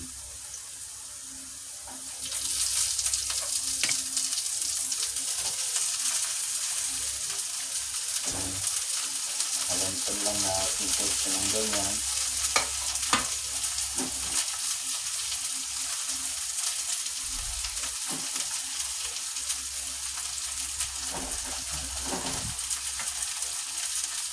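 Fried tulingan (bullet tuna) goes into a hot pan and sizzles. After a quiet start, a steady loud hiss builds and holds, with occasional clatters and brief pops from the pan.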